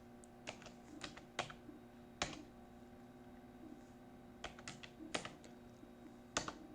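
Typing Python code on a computer keyboard: soft, close key clicks in short bursts separated by pauses, with no talk.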